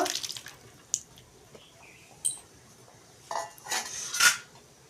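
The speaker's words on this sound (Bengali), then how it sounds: "এখন আবার নেড়ে নেব" A spoon stirs pumpkin and fish sour curry in a pan, with scattered metallic clinks and scrapes against the pan and a few louder knocks between quieter moments.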